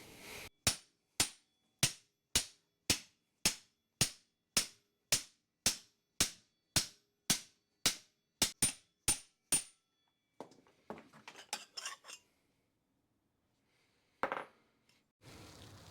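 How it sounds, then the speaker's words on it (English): A hammer smacks the end of a metal pipe to flare it during a mini truck lowrider build, about twenty sharp, evenly spaced ringing blows up close, followed by a few quieter clanks and shuffling with no talking. "I'm going to smack it with a hammer really hard and try to get the end of this to flare out a little bit."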